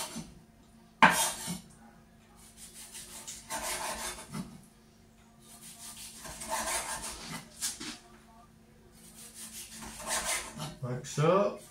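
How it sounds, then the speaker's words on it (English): Knife cutting raw cod into bite-sized chunks on a board, soft scraping and rubbing strokes in intermittent bursts with small clinks, close and quiet. "So you're just going to cut it, okay, to bite-sized chunks."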